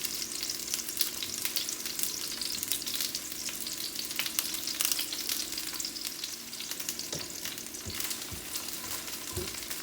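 Onions and garlic sautéing in a pan for red skin potatoes, a steady broadband sizzle with a low hum underneath and a few sharp clicks of utensils, close and continuous, no voices.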